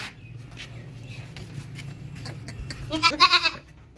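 Goat bleats loudly while being held apart from the herd, one wavering cry near the end after quieter shuffling and handling noise.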